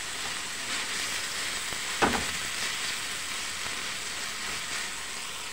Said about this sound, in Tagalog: hinalo ko na po yung bawang at sibuyas